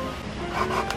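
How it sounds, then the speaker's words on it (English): Bamboo pieces pressed together and rubbed back and forth to make fire, a steady close raspy scraping friction that continues throughout with a slight swell in intensity near the end. "He makes a mark and then he presses and rubs"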